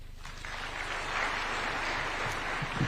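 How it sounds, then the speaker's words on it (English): Audience applause after testimonials at a State House awards event, clapping that swells in the first second and then holds steady and moderately loud until the end. "Another round of applause for such wonderful testimonials."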